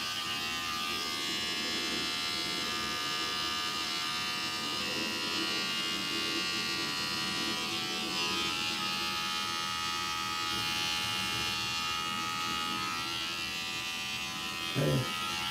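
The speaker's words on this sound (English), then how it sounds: "Let me go ahead and use the trimmer real fast" An electric trimmer hums in a steady, close, continuous buzz while shaping a beard fade, the tone holding even throughout with a brief bump near the end.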